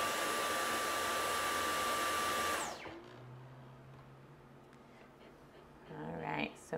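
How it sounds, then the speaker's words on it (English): A loud, whooshing motor runs steadily, then cuts off abruptly, leaving a quiet room with faint rustling and a brief whir at the end. "So we're gonna start with the vacuum first."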